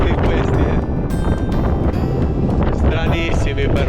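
Strong wind buffets the microphone beside a rough, angry ocean at Tacoron, a loud, constant roar with gusty bursts, while a voice talks over it throughout.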